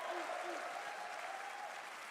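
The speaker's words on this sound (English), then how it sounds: "Now let's also applaud Claire Obscure from Sandfall." Audience applause at Summer Game Fest fills the short stretch as a steady, dense wash of clapping at an even level with no break.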